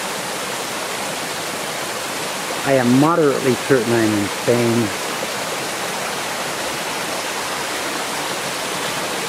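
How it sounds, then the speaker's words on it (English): A mountain waterfall in Spain pours straight down, a steady, loud, hissing rush of falling water that fills the whole clip, with someone briefly talking over it. "The water's coming just straight out and down."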